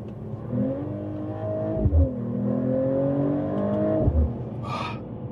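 A Mercedes-AMG CLE53 accelerating hard from inside the cabin, its engine note climbing steadily, then cut by two distinct upshifts, each a brief punchy thump before the note drops and climbs again.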